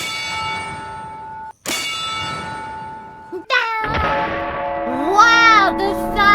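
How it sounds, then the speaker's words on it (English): Rifle bullet striking a steel target, a sharp clang followed by a sustained bell-like ringing tone that decays, then an excited voice exclaims over the lingering ring. "Wow, the sound! It's like it's ringing a bell."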